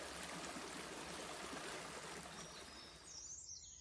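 A gentle forest river flows in a steady, soft rush of water, with a few birds chirping faintly near the end.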